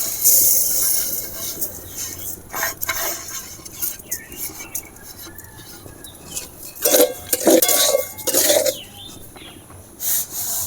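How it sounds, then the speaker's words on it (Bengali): Raw Gobindobhog rice being stirred in hot oil in a wok with a spatula, giving intermittent gritty scraping and rubbing strokes in uneven bursts, close and fairly loud, with no talk. "কড়াতে তেল দিয়ে দিয়েছি, এবারে চালটা নেড়ে নেব।"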